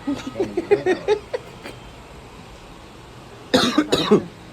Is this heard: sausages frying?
no